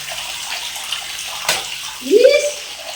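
A child splashes and stirs water in a tank, with a soft hiss of moving water, one sharp splash near the middle and a brief gurgling surge toward the end, close by.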